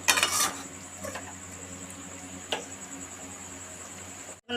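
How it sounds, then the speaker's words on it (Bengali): A lid is set on a pot of simmering dhaba-style egg curry. It lands with a sharp metallic clatter at the start, followed by a couple of faint clinks over a soft steady hum, with no speech. "ডিমগুলো দিয়ে ফুটুক, আমি কিছুক্ষণ ঢাকা দিয়ে দেবো।"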